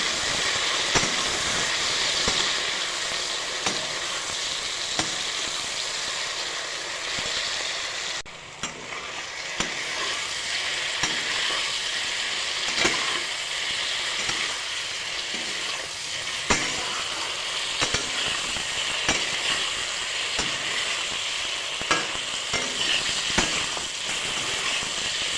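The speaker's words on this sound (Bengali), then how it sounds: "এখন আমি হালকাভাবে নাড়াচাড়া করে নিচ্ছি" Tomato masala fries and is stirred in a pan for aloo katliyan, giving a steady, close sizzling hiss with scraping strokes and a brief dip partway, with no talking throughout.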